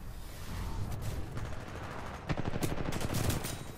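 Gunfire in Titanfall 2: near-continuous rapid automatic firing with rattling bursts that grow denser and louder toward the end.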